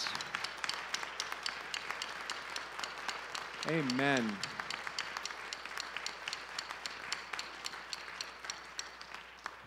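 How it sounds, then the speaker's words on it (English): A church congregation applauds veterans standing during a Sunday worship service, a broad even patter of many hands across the room, with a voice briefly speaking over it midway. "Church, give them a round of applause."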